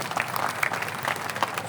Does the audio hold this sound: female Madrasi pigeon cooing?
no